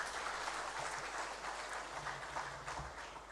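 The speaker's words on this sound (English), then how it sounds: "I thought we should give ourselves a round of applause." Faint, steady audience applause at a trade seminar, a continuous wash of distant clapping lasting a few seconds with no voices over it.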